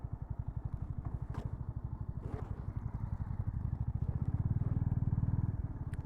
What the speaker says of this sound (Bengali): প্রচুর বাইকের ভিড় এখানটায়।